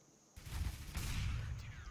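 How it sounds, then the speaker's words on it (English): Gunfire in the video game CS:GO: after a quiet moment, a loud, dense burst of shots erupts and rattles on as a continuous volley, with no talking. "it's gunshots are ear deafening"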